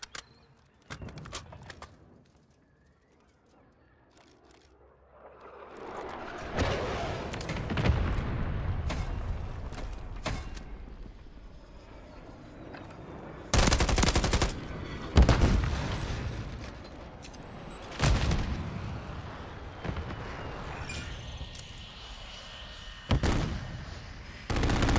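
Gunfire from a VTOL aircraft killstreak in Call of Duty MW3 on a multiplayer map. Loud, sharp bursts and booming impacts arrive in separate clusters over a rumbling, busy background.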